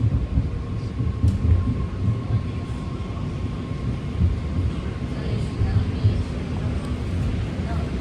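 A six-car BART Green Line train slows while pulling into South Hayward station, heard from inside as a steady low rumble with faint rail squeal and an announcement voice over it.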